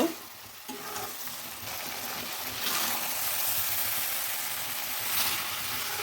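A cashew and melon seed paste fries with spices and tomato paste for restaurant-style mixed vegetables, stirred with soft scraping over a steady close sizzle that swells in a few surges.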